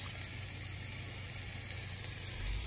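Fish fillets fry in an electric skillet at a campground under a fire ban, giving a faint, steady, even sizzle with no voices, holding level until it swells slightly near the end.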